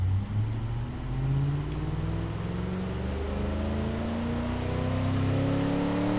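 A simulated engine revs in the Automation car-building game after a cam tune, its rising harmonic tone sweeping steadily upward, loud and continuous with no talking.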